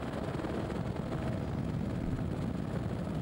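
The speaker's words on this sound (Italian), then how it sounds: "intanto l'elicottero sfiora la seggiovia" A helicopter flies low near a chairlift over a mountain bike marathon course in the mountains, a steady, dense rotor and engine roar at fairly close range with no talk.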